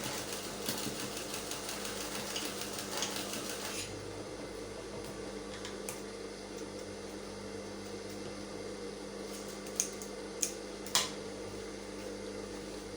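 A sewing machine stitches a trouser seam with a soft, continuous whir and a steady fast rhythm, fairly faint, followed by a few sharp clicks near the end.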